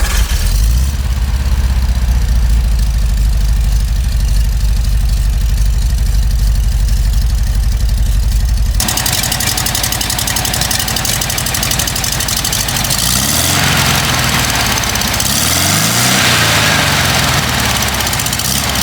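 The small air-cooled engine of a 1958 VW Beetle with a tuning exhaust idles loudly and close with a throaty, lumpy exhaust burble, the tone shifting partway through as if revved slightly.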